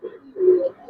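An Indian silver pigeon gives a brief, low, throaty coo, close and fairly loud, lasting under a second.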